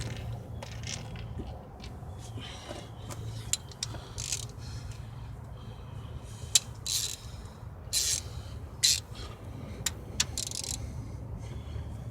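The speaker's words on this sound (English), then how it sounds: "let's take the rest of the damn bolts off" A ratchet removes valve cover bolts during engine work, giving bursts of quick metallic clicking and occasional sharp clanks, close up with no talk.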